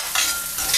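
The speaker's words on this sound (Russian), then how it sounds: "Перемешиваем все это дело." Fried onion and carrot with spicy sesame pepper paste are stirred in a hot pan, giving a loud sizzle with two short bursts of scraping and stirring and no voices.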